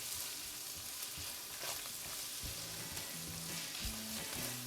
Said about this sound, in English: So let's go ahead and let's add that garlic now. We'll give that a quick stir in.